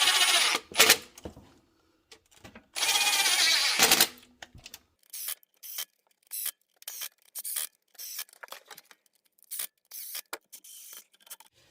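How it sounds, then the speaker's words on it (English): An impact wrench on a small setting drives down a 10mm bolt during a Honda rear main oil seal installation. Two longer loud bursts come first, then many short rapid rattling bursts, all close and with no talk. "Make sure you're on a small setting of your impact to zip this thing down"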